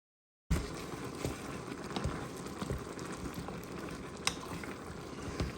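Creamy Marry Me chicken sauce simmering under a lid in a pan, a faint, steady bubbling hiss with occasional soft pops and clicks, starting after a brief silence.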